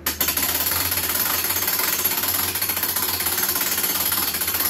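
A winch cranks a purple martin birdhouse down its post to the landing stop, giving a steady, loud, continuous mechanical grinding rattle with no pauses and no talking.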